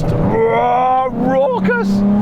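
A twin Weber-carburetted car engine, likely a classic Nissan Z, runs loud and raucous with a steady drone that dips briefly, then rises in pitch as the revs climb near the end.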